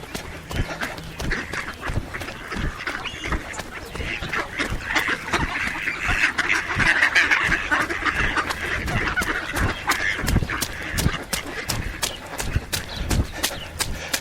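A large flock of about 150 ducks quacks continuously and busily nearby on a wet day, many overlapping calls with clattering, clip-clop-like knocks scattered throughout.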